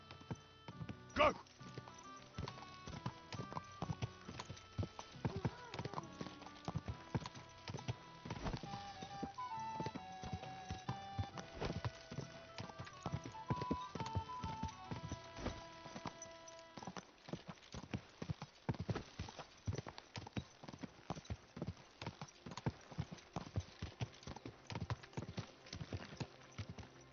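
Horse hooves clip-clop steadily in Kingdom Come Deliverance 2, a rhythmic run of hoofbeats over game music, growing denser and more percussive in the second half.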